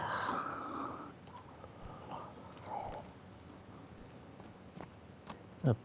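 Horse hooves clip-clop in the Kingdom Come Deliverance video game, a soft, fairly faint run of hoofbeats with a brief snort-like burst near the end and no talking.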